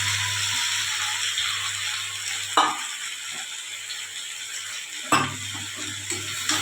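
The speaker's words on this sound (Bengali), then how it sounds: "নেড়ে দিচ্ছি ভালো করে, চারপাশে যাতে মশলাগুলো সব সবজির মধ্যে ঢুকে যায়, আলু ফুলকপির মধ্যে" Fried potato and cauliflower with spices being stirred in a pan: steady sizzling with a low hum, and two sharp scraping stirs partway through, close and clear with no talking.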